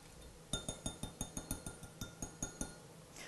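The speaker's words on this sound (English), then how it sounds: "I'm just going to whisk it up just a little bit." A whisk clinks in quick, regular strokes against a measuring cup as milk and sugar are mixed, about a dozen bright metallic taps, fairly faint and heard alone.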